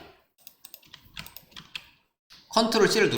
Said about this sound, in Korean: 컨트롤 C를 누르면